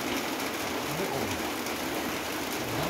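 Steady rain falls in the forest in rural Thailand, a dense, even hiss that runs throughout with no voices.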